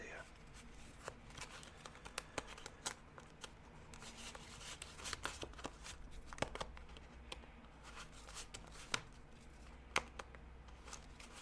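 Batman-themed playing cards without an air-cushion finish being shuffled roughly, a steady run of dense papery riffling and snapping through most of the stretch, close and fairly quiet.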